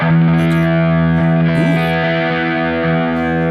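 An electric guitar on the middle bridge pickup position rings out in sustained, distorted chords with a slight effects shimmer, loud and close, with no talking.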